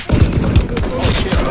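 Rapid gunfire and a heavy explosive thump from a grenade in Call of Duty: Modern Warfare 3, loud and dense across a short burst.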